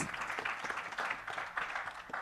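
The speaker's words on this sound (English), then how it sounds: "Let's give the panel a huge round of applause." Audience applause for a panel at a Black women tech entrepreneurs event, a steady dense patter of many hands clapping throughout, moderately loud and filling the room.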